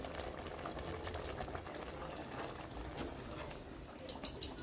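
Green mango curry boiling steadily in a pot on a village stove gives off a continuous bubbling simmer with a few louder pops near the end, close by and with no voices.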